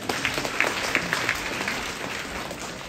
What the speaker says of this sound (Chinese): 谢谢您对我的掌声鼓励。